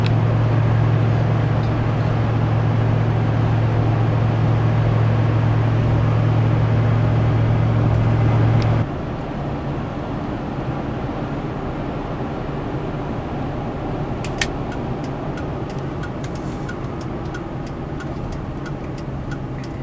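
A 2007 Ford F-150 Lariat with the 5.4L Triton V8 rolls over a pothole-riddled road, its steady cabin drone and road rumble dropping slightly partway through, with a few faint thumps and rattles later on.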